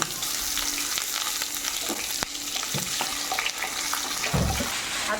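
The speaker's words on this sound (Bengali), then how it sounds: "তেল গরম হয়ে গেছে, ফোড়ন দিয়ে দেবো তেলে।" Dried red chillies, cumin, bay leaf and onion sizzle steadily in hot oil for a Bengali village-style curry, a close, continuous frying hiss with occasional stirring scrapes and a thud near the end.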